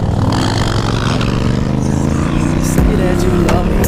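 Motorcycle engine revving up for a wheelie, loud and close with rattling mechanical clatter, mixed with voices talking over it.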